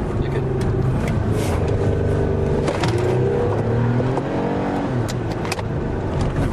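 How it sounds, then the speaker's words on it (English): A Toyota car pulls away and speeds up from around 20 miles an hour, with a steady engine drone whose pitch climbs as it accelerates, loud and close, heard from inside the cabin. "We're gonna take off here on Toyota. Now at 20 miles an hour."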